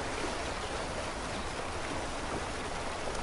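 Waterfall roaring as a steady, dense wash of falling water, loud and close, with no other sounds.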